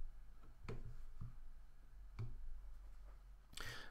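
A computer mouse clicks three separate times while working in After Effects, each click short, faint and close, with quiet gaps between.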